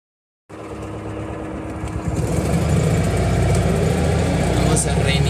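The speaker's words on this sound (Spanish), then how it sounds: "lo dejo para ver cómo es el funcionamiento en ralentí" A Citroën 2CV fitted with an electronically injected M28 MPFI engine starts abruptly and then settles into a steady, close, buzzing idle that holds level throughout.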